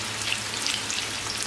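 Meatballs (köfte) fry in oil left from an earlier batch, making a steady, close sizzle with dense crackling and spitting that runs without a break, and no one speaks.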